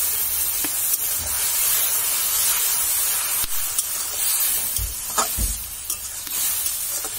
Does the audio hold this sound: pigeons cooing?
no